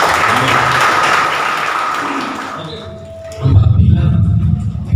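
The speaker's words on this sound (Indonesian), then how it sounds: "Kasih tepuk tangan dulu buat dia." Church congregation clapping for a singer, a brief burst of applause that fades after about two and a half seconds, followed by a voice speaking.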